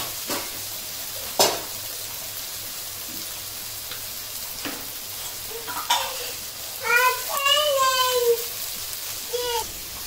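Garlic sizzles steadily in a pan while Bengali-style chicken is being prepared, with occasional stirring clinks and a voice talking over the frying near the end.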